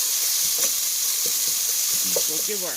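Bacon browning in a soup pot gives a steady, loud sizzle and frying hiss throughout, with someone speaking briefly over it near the end.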